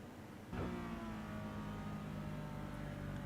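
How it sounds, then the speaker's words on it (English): Porsche 911 Cup race car at Spa slows down, its engine note dropping with a falling pitch sweep, then settling into a steady, droning tone heard from onboard. "I can hear you slow the car down now to get it back to there."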